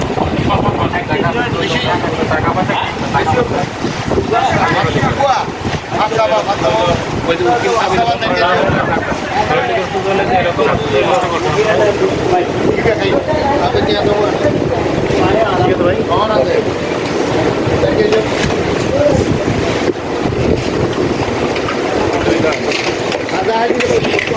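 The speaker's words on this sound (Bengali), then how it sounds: "প্রচুর জোরে বাতাস হচ্ছে আর বৃষ্টি হচ্ছে" Heavy rain and strong wind sweep through Mecca near the clock tower, a dense, steady roar of downpour and gusting wind buffeting the microphone for the whole stretch, with a voice talking faintly underneath.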